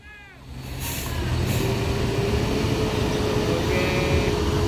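A Hino truck with air brakes manoeuvres on a road slick with spilled palm oil. Short air-brake hisses come first, then a loud steady engine drone builds and holds, with faint whistling tones over it.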